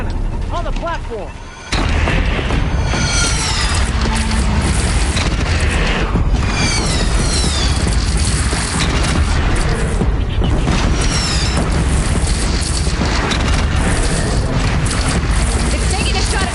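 Cannon fire in a PS4 video game, heavy booming blasts over a constant loud rumble with wind, mechanical clatter and voices speaking throughout.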